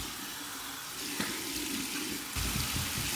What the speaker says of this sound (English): Now we're gonna go to my cold water rinse.